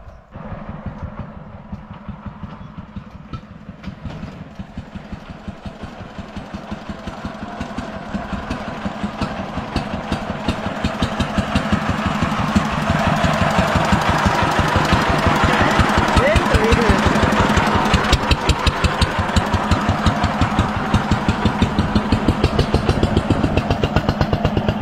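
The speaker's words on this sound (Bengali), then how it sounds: "বড় মেশিন এখানে, এদিক দিয়ে আবার আসছে" A large farm machine's engine approaching through a rice paddy field in India: a steady, rhythmic chugging drone that grows gradually louder and nearer, holding strong and continuous.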